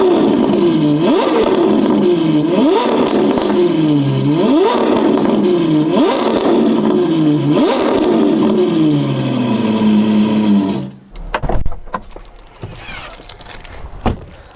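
A Novitec-tuned Ferrari 812 Competizione with 866hp and an aftermarket exhaust system revs in about eight quick, rhythmic rising pulses with a slightly muffled tone, then cuts off abruptly into scattered clicks and light handling noises.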